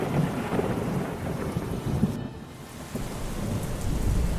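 A thunderstorm with heavy rain, a steady dense hiss of downpour with deep thunder rumbling through it and a brief lull midway, loud and close with no voices.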